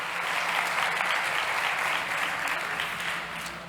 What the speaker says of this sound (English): Ladies and gents, a big round of applause.